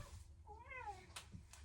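A noisy house cat gives a single rising and falling meow at close range, followed by a couple of short clicks and knocks against a low room hum.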